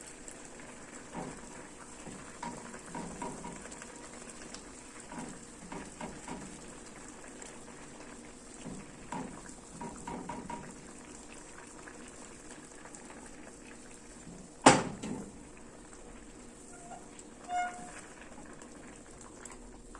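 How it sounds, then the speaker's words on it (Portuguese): Melted sugar caramel bubbling steadily in a frying pan for a caramelized pineapple upside-down cake, a quiet, continuous fizzing simmer with one sharp clatter partway through. "Já derreteu tudo e as bolhas já estão bem intensas"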